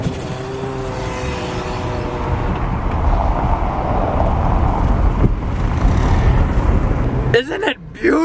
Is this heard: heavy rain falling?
no